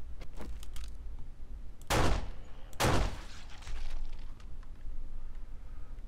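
Gunfire in the survival game 7 Days to Die, two heavy booming shots about a second apart standing out over lighter scattered pops and low background rumble, with no talking.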